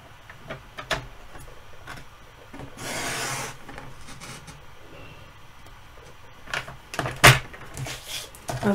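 Craft knife or cutter slicing slits into card stock for a scrapbook window card, heard as a few close, brief rasping scrapes and clicks with a longer rubbing swipe, in a quiet indoor room.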